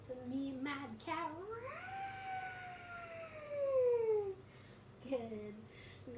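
During a seated yoga breathing pose, voices imitate a cat's meow: a few short rising mews, then one long drawn-out meow that slides downward, followed by another brief mew.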